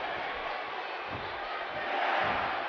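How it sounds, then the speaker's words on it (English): Steady roar of a virtual arena crowd in the WWE 2K14 wrestling video game, a dense continuous wash of cheering that swells slightly near the end, with no clear talk over it. "Listen to the crowd."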